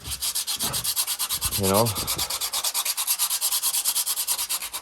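Rhythmic back-and-forth rasp of sandpaper being rubbed over a small piece of wood to round it, close and steady strokes, with a brief spoken remark near the start.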